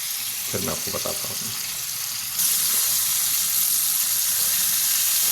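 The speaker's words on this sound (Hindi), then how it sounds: "ये देखिए हमारे सारे पकौड़े इसके अंदर हो गए। अब इसको हल्की आंच पे हम पकाते हैं" Mirchi pakoras frying in oil over a low flame: a steady hiss of sizzling oil that grows louder partway through, with someone speaking briefly near the start.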